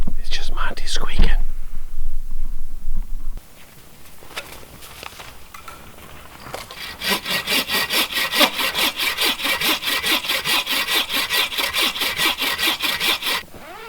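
Monty the dog snores in a hot tent while winter camping, with a steady run of rhythmic, rasping breaths close by after a brief burst of talk.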